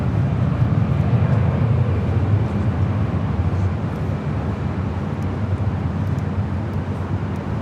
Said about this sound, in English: Big Q, Qatar Airways, flight 740, heading back to Doha, the second A350 1000 flight